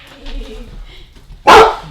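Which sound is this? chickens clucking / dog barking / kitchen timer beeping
dog barking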